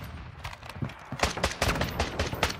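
Gunfire during a Warzone 2 match on the Vondel Resurgence map, a rapid run of sharp, loud shots and bursts close by, dense and irregular like a firefight, with no talk.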